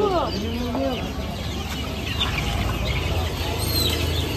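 Hens and chicks cluck and chirp close by on a farm over a constant noisy background hum, with brief calls scattered through the stretch.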